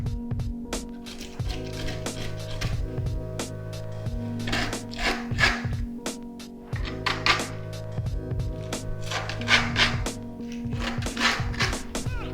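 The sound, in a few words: filing griptape edges on a scooter deck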